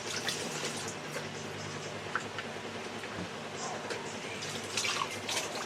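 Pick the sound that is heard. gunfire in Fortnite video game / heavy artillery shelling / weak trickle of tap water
weak trickle of tap water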